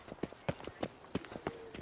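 Hooves of Roach, Geralt's horse in The Witcher 3 game, clip-clop in a steady walking rhythm, about a dozen distinct footfalls, fairly close and moderately loud.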